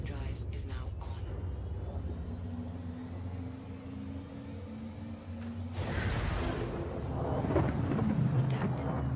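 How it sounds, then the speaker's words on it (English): A quantum drive in a spaceship video game rises into a deep rumbling whoosh that swells and grows louder midway, layered with low engine drone and sustained tonal hum. "Quantum drive is now on."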